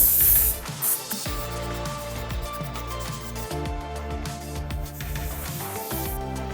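Boston Rust Buster sprayed onto rusty cast iron gives a steady, close hiss that runs unbroken throughout, with faint clicks and rubbing mixed in and no voices.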